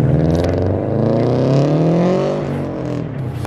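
Toyota TRD car engine revving close by: a loud, rising mechanical roar that climbs in pitch over a few seconds and then eases off.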